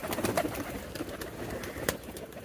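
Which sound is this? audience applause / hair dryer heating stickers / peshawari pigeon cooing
peshawari pigeon cooing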